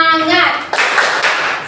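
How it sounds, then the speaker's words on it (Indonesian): A class of children joins in the 'tepuk semangat' clapping chant, a few quick rhythmic claps followed by a burst of group clapping, with voices chanting along, close and fairly loud. "Tepuk semangat."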